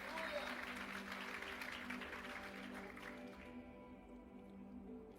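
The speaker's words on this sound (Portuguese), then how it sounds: "Se quiser dar força para o nosso irmão e aplaude junto." Church congregation applauding during a sermon, a quiet, distant wash of clapping with voices mixed in, tapering off after a few seconds into a low hum.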